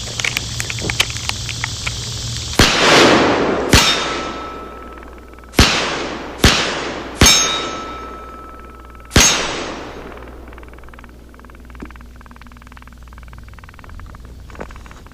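A Taurus TH9 pistol fires six loud, sharp gunshots in an irregular burst, each crack followed by a ringing outdoor decay, with a quieter stretch before and after.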